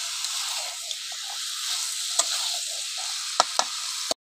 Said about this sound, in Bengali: এবার মাংসটাকে আমি ভালো করে কষিয়ে নেবো।